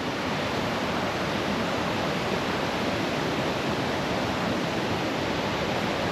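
Strong, steady rush of water pouring down a waterfall at Cascata da Ca in Portugal, a dense roar that fills the whole clip evenly without pauses, with no voices heard over it.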